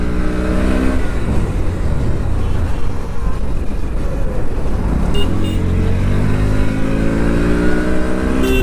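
A Bajaj Pulsar NS motorcycle engine revs hard while being ridden, a loud, close, continuous drone whose pitch climbs steadily toward the end with wind noise over it.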